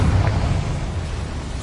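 Confringo fire spell from Hogwarts Legacy bursting with a loud, dense explosive roar that holds steady through the short moment, heavy low rumble under crackling noise, no speech present.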